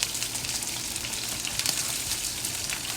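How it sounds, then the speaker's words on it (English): Steak sears in a hot pan for a Philly steak dish, giving a continuous close sizzle with scattered pops and spits, no voices. "Steak sears really fast."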